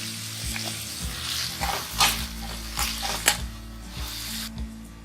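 Chopped onion hits hot oil in a pan and fries with a loud, steady sizzle, broken by several sharp stirring clanks and scrapes, close up with no voices.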